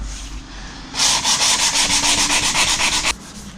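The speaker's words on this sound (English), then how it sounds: "So what I will do is sand them first a bit." Cracks in a wall being sanded by hand: a quick run of about a dozen rhythmic, raspy back-and-forth strokes, close and steady, with a quiet pause on each side.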